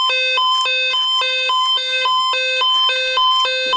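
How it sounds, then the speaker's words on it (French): A toy bicycle siren plays a repeating two-tone police wail, loud and close, cycling steadily without pause. "Alors, on a pris une sirène pour le vélo de Calvin qui fait le bruit de la police."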